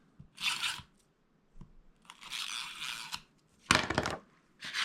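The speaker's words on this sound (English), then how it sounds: "I am going to use my tape runner" Paper scraps being worked with a tape runner at a crafting table: bursts of dry rustling, crinkling and scratchy tape-applying noise come in separate passes, with a sharper crunch near the end, close and fairly loud, no talking.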